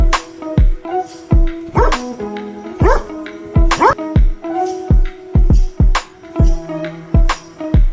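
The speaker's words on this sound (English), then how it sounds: "D for dog" A dog barks repeatedly in short, loud bursts with an uneven rhythm, with a faint tonal hum running underneath.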